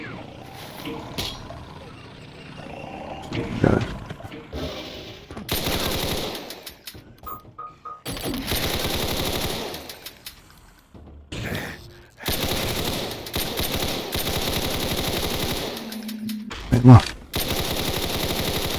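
Chain gun fire in Doom, several bursts of rapid automatic shots separated by pauses, loud and up close, mixed with other game effects and a voice speaking at times.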